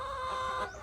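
A free-range farm chicken gives a short, close clucking call with a rising tonal note that trails off at the end.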